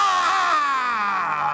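A loud, drawn-out karate shout comes from one voice, a sustained falling cry held for over a second, close and alone with no other sounds.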